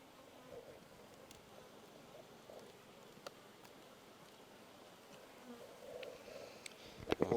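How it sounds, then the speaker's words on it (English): A low, steady hum of honey bees swarming around an open hive, faint and continuous, with a few soft clicks and a brief louder rustle at the very end. "Bees, bees, and bees in galore."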